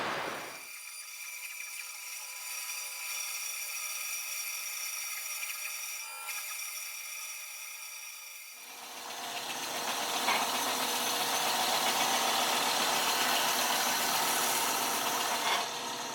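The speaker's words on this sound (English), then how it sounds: "We'll take it to the bandsaw and just take some of it off" Band saw running, a steady mechanical hum that shifts into a brighter, hissing cutting sound partway through as the blade bites into a block of black walnut, close by and continuous, no voices.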